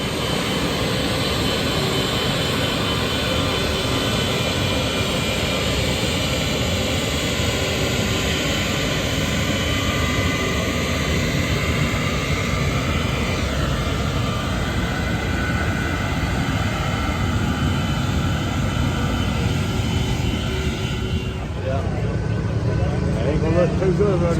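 A loud jet dryer engine drying a race track roars steadily at close range for a long stretch, smoking with an off air-fuel mixture, a constant high-pitched whine and rush that drops off near the end.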